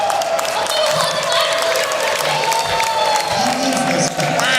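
An audience at a Midwest Gaming Classic costume contest claps and cheers in a continuous dense wash, loud and close, with a voice speaking over it and some tonal music in the background.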